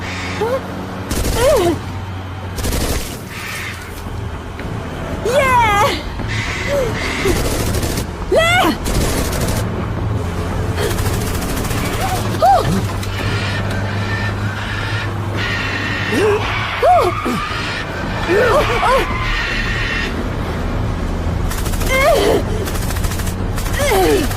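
Rapid bursts of gunfire crack repeatedly over a steady rumble, with shouting Hindi-dubbed voices and whizzing effects mixed in throughout, from the film Jurassic World Rebirth.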